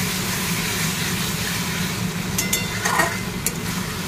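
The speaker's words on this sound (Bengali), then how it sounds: "রসুন দিয়ে একটু ভাজাভাজি করি।" Garlic frying in a pan with oil, a steady close sizzle with a few brief clattering stirs near the end, no voices.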